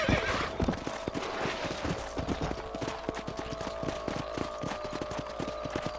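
Horses trotting with steady rhythmic hoof clops and repeated neighs and whinnies in the Western video game Red Dead Redemption, close and continuous over a ranch soundscape with no talk.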